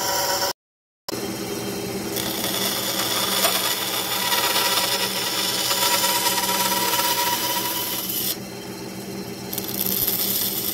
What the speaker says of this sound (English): Start turning the wood.